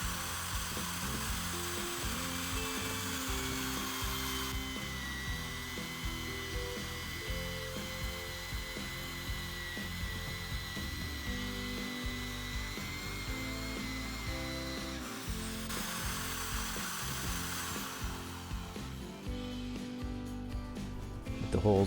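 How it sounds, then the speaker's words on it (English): Power drill boring holes into a steel floor plate on a cast iron workshop table for mounting an industrial robot, a steady whining drone with shifting tonal pitch changes, close and continuous without talk. "so that I can begin drilling and then tapping the holes to secure the robot to this table"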